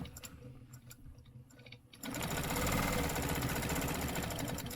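Sewing machine stitching along straight stencil lines, first a few short ticking bursts, then a continuous fast needle clatter running steadily and fairly loud to the end.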